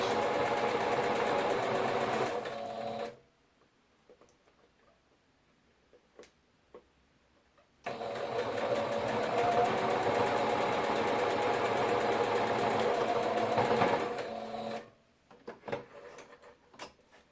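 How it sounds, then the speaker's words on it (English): A sewing machine stitches across quilt fabric while puffs are filled for a bubble quilt, running steadily for about three seconds, pausing with a few faint clicks, then stitching again for about six seconds before stopping. "And I'm just going to hold that right there and sew it across."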